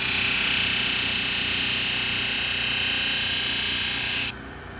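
A powered Hira-To flat hone spins while a knife edge is sharpened on it, giving a loud, steady, hissing whir that runs unbroken for several seconds, then drops off abruptly near the end.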